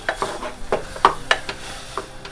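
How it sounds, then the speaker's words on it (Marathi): Grated pumpkin and jaggery stirred in a pan give soft intermittent scrapes and light metallic taps from the utensil over a faint low sizzle, close up, with no talking. "तर आधी हे चांगलं गूळ मी भोपळ्याच्या किसामध्ये जे वितळेपर्यंत ढवळत राहते"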